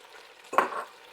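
Chopped onion drops into a hot pan for a pork stir fry, a short burst of sizzling that swells and then settles into a soft frying hiss.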